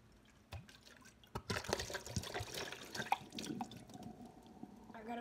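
Water runs and splashes into a sink, a steady broadband pour with scattered drips and splatters building after a quiet start, close by with no talking.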